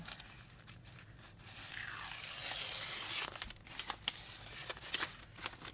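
Paper trimmed for a handmade journal gives a rustling, tearing swish that swells for about a second, followed by scattered crinkles and small taps, close and fairly quiet.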